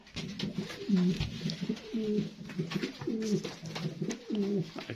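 Homing pigeons coo repeatedly in low, rolling phrases, several overlapping calls close by with a steady rhythm and no talking.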